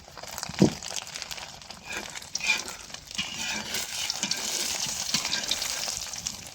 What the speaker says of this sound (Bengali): তুমি তেলটা একটু ঘুরিয়ে দাও।